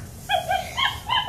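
A pet dog named Lucy barks in a short burst of three or four high, yappy barks, close and fairly loud, with no talking.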